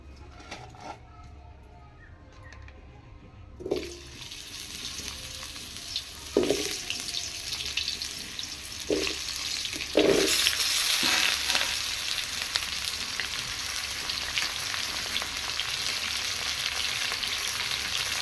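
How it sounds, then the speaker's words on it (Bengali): Cut pumpkin pieces drop into hot oil and fry, the sizzle jumping louder at each addition and then holding as a bright, steady crackle with occasional stirring knocks. "এই কুমড়োগুলো আমি তেলে ভেজে নেব"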